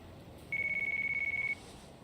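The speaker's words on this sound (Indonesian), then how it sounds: "Telepon siapa nih?" A phone in the crime RPG Yakuza: Like a Dragon rings once with a steady electronic tone for about a second over quiet game ambience.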